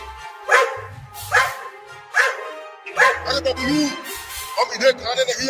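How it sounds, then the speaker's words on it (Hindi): Cartoon dogs barking in a series of sharp, evenly spaced barks, about five in a row, followed by quicker yips and whimpering, loud and close with voices talking among them. "तो भौंकना बंद करो"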